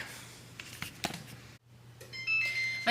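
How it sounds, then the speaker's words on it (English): A kitchen timer beeps while whoopie pies bake, its tone rising near the end after a quiet stretch, fairly faint against light kitchen background noise. "My timer's going off"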